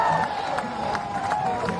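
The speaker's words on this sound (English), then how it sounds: "The crowd goes wild." Crowd at a professional surf contest at Pipeline cheering and whooping after Kelly Slater's ride, a steady roar of distant voices with scattered shouts and clapping.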